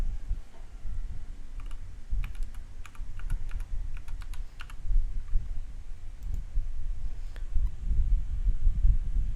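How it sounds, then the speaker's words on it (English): Steady typing on a computer keyboard, rapid clicking keystrokes close by, over a low background rumble. "And now I can start typing my document."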